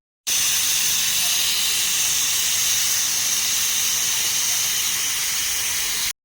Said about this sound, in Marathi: आता कुकरचं झाकण लावून आपल्याला याच्या 2-3 शिट्ट्या करून घ्यायच्यात